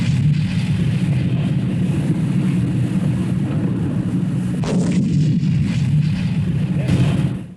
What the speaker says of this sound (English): In a jam, a commander can always call up artillery support.